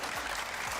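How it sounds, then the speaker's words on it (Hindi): An audience claps steadily through a brief moment of a televised entertainment show, a continuous wash of hands with no single claps standing out. "तालियां बजाओ मेरे लिए।"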